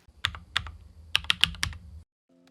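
Keys clack on a Keychron Q1 mechanical keyboard, stock out of the box: a handful of sharp, close strokes in an irregular burst, then silence with a faint tonal blip at the end.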